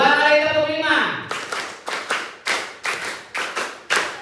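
An audience at an Indonesian education talk claps a counted rhythm in unison, sharp synchronized claps repeating steadily after a voice leads off at the start.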